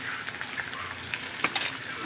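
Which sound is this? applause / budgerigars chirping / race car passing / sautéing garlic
sautéing garlic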